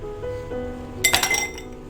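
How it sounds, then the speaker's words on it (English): Ice cubes dropped into drinking glasses while serving a mango smoothie give a sharp cluster of bright clinks about halfway through, following quieter handling noise, with no speech. "Let's just grab some ice cubes and put this in"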